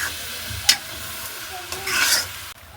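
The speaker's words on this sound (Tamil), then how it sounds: "சேர்த்து நல்ல வடிவாக ஒரு கப் பிரட்டி விடுவோம்." A spoon stirs goat meat into a sautéed mixture in a pan, scraping and rubbing against the metal over a soft sizzle, with a couple of sharp clinks and a brief louder scrape near the end.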